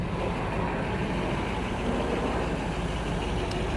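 Steady, fairly quiet engine rumble from a classic Chevrolet Nova built as a Yenko Deuce clone and fitted with a stock-style exhaust, droning continuously and evenly with no talk.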